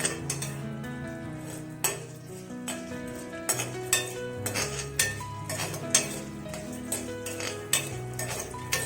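Curry leaves roasting in a pan, with a metal spoon scraping and clinking against the pan at a steady rhythm over a soft continuous sizzle, close and fairly loud.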